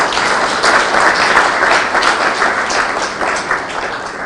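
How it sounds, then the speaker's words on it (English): An audience at a memorial tribute to a late Kenyan president breaks into loud, sustained applause, a dense wash of many hands clapping with no speech over it. "I think you clap for him again."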